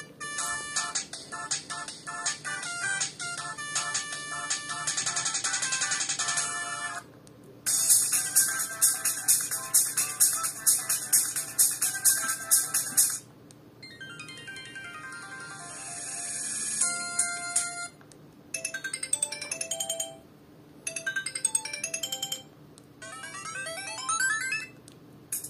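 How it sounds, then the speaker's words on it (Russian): A Sony Ericsson Z320i flip phone plays a sequence of its built-in MP3 and polyphonic ringtones, bright electronic melodies in separate bursts with short gaps between them and no one talking. "Есть как MP3, так и полифонические."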